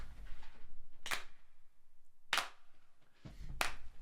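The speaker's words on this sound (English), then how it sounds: "Then I have 4 layers of clapping" Three separate bursts of layered hand claps, each a sharp stack of several close claps, spaced about a second and a half apart over a quiet low hum, recorded as percussion for an a cappella track.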